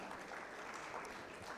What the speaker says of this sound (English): I'm watching to see who's not clapping